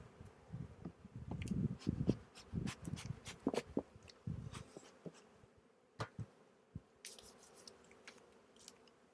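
Honey bees buzz steadily at close range in an open single deep insulated hive in spring, mixed with scattered clicks and soft knocks from handling, the buzzing fading into quieter ticks toward the end.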